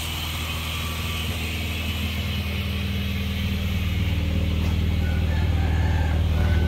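A 2009 Honda Jazz RS with a manual gearbox and an aftermarket racing exhaust idles smoothly, giving a steady, close, low rumbling drone that holds even and unbroken throughout.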